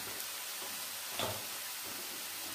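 Coconut oil drizzled over hot papaya thoran in the pan brings a soft, steady sizzle, fairly quiet, with a brief brighter hiss in the middle as the oil hits.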